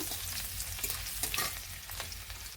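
Whole cumin seeds and crushed garlic frying in hot oil for a Bengali taro-leaf and hilsa dish, a dense steady sizzle with a few sharper crackles and stirring scrapes, close and alone.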